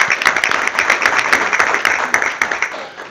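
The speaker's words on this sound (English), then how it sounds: "can we give a round of applause to Holly?" Applause fills a city council meeting room, a steady crackle of many hands clapping at once, fairly loud and unbroken for several seconds.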